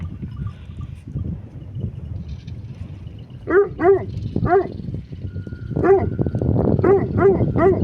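A hunting dog barks and yips in short bursts, several close together, over a steady low rumbling background.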